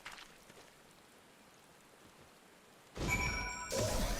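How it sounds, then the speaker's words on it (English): Rain falling in the Final Fantasy XIV video game: a soft, even patter at first, then a sudden loud surge of rain noise with a few faint tonal game sounds over it. "Someday it'll stop raining."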